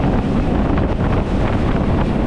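A fishing boat runs offshore toward a new spot, loud continuous engine and hull rush mixed with heavy wind buffeting the microphone, steady and close with no pauses.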